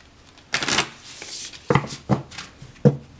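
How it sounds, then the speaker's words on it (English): A tarot deck being shuffled by hand: a long riffling rustle followed by several sharp, close card taps and slaps. "give the India deck a shuffle."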